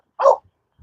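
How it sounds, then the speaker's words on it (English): A French bulldog barks once outdoors in the windy Mojave Desert, a single short close woof followed by near silence. "We got obviously my barking dog in the back."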